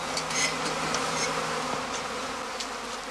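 A cast swarm of honeybees buzzes steadily around a swarm cluster on northern German heathland, a dense, continuous insect drone with no talk.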